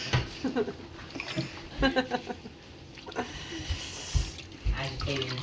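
Water sloshes and splashes in uneven bursts as wet felt for a hat is agitated by hand, with a voice speaking intermittently over it.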